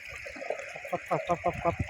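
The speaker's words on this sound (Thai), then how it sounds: "ถ้าเสียงแบบนี้คือ น้ำไหลนะครับ เสียงนี้น้ำน้ำไหลนะครับ" Water gushing steadily from a groundwater well pump makes a constant hiss and splash beneath a man's close, continuous talking.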